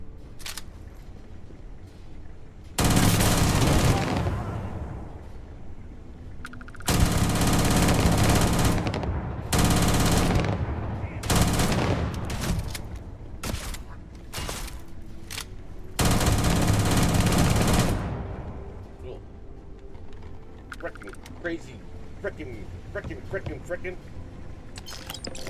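Automatic gunfire in the space game Starfield comes in several loud sustained bursts with gaps between them, plus scattered single shots later, while a person talks over it.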